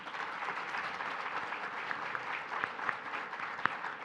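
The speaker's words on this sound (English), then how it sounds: "let's give our panel a round of applause" An audience applauds a panel at a cybersecurity event, giving a steady, moderately distant round of clapping with a few sharper individual claps standing out near the end.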